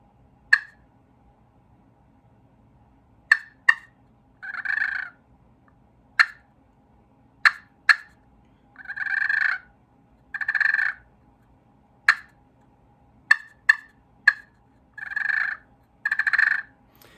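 A wild turkey gives sharp, single clucks one at a time or in quick pairs, interspersed with rolling, trilling purrs, all close and clear against a quiet background.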